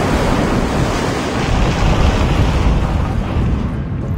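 Loud, continuous rush of water waves in Assassin's Creed Revelations, a dense wash of surf noise with a wind-like hiss that holds steady throughout before thinning slightly at the end.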